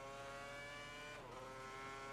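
Cosworth engine of a Formula One race car in a video game screams at high revs, a loud, steady whine with a brief dip and recovery midway as a gear changes, with no voices.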